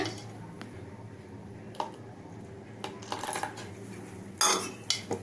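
Cucumber dosa batter being mixed with water in a bowl, heard as soft wet squishes with scattered clinks and scrapes of a utensil against the vessel, fairly quiet and close.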